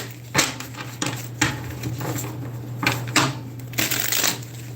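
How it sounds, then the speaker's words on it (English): A deck of tarot cards being shuffled by hand in repeated riffling bursts of papery flicks, close and fairly quiet, with a low steady hum underneath and no talking. "Get some good shuffles."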